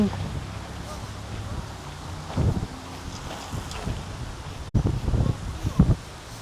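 Wind gusts outdoors on a walk buffet the microphone, a low rumbling roar that swells in bursts and drops away, with faint rustling in the background.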